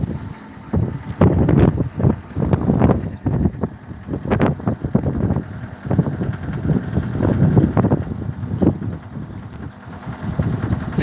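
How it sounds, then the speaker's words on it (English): Strong wind buffeting the microphone on a farm during equipment cleaning, gusty low rumbles and thumps rising and falling steadily throughout, close and loud, with no voices. "I'm trying to stay out of the wind"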